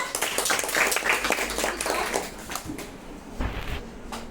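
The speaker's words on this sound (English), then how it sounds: "Please clap for her." Students in a classroom clap together in a dense burst of applause that gradually thins out and fades.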